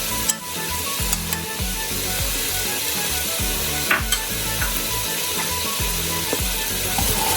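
Mutton cooking with Kolhapuri masala paste in a pan, sizzling steadily while a utensil stirs and scrapes in repeated rhythmic strokes, close and clear with no talking.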